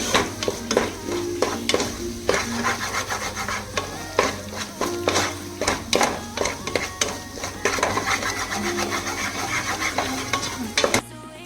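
Close, busy frying and sizzling of an egg and tuna mixture in a pan, with frequent scraping and stirring strokes from a spatula, continuous throughout.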